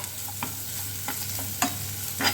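Onion, capsicum, ginger and garlic being sautéed in a pan for spring roll filling, with a low steady sizzle and a few soft spatula scrapes and taps spaced apart, close and fairly quiet.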